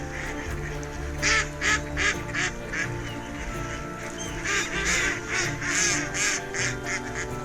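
Mallard ducks quack and Canada geese honk together in a dense, continuous chorus on Balmoral Marsh, many birds at middle distance with rhythmic call bursts rising over a steady wash of background noise.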